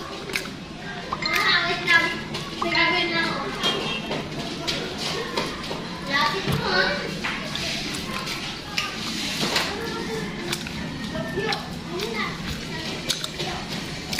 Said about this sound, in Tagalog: maingay sa labas kasi may mga bata naglaro